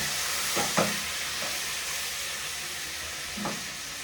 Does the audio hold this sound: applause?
no